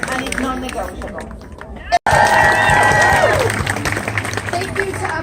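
A large outdoor rally crowd cheers and claps in a loud, sustained roar, with voices and whistles rising after a brief break and shouts mixed through the swell.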